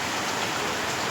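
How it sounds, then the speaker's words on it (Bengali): Steady, dense rainfall, a continuous broadband hiss of drops pouring down with no break or change across the moment and no voices. "দেখো বৃষ্টি পড়ছে।"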